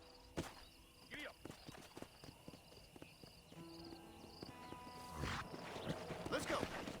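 Horse hooves clip-clopping in the video game Red Dead Redemption, a series of faint, uneven hoof strikes under background game sound and music, with a voice heard briefly.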